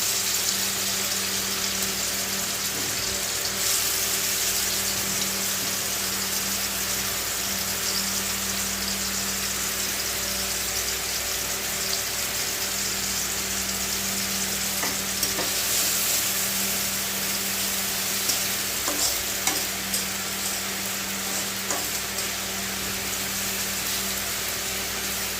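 Chopped onions fry in hot oil in a wok, giving a steady, loud, even sizzle with faint scraping stirs now and then, and no voices.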